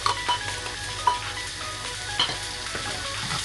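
Onions and vegetables frying all at once in a pan for Indonesian yellow fried rice, a steady close sizzle with stirring scrapes and light clatters running throughout, no voices.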